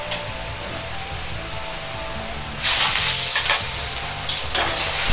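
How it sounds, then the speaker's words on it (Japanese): Beaten egg poured into a very hot oiled wok for a fluffy crab omelette, a low steady background giving way to a sudden loud, bright sizzle that keeps crackling and spitting to the end. "卵を入れたら、ジャーッと音がして周りが膨らんできます。"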